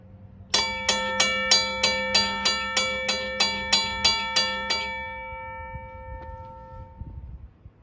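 A railroad crossing bell rings alone in about a dozen evenly spaced, loud metallic strikes, then stops and leaves a long fading ring and faint handling noise.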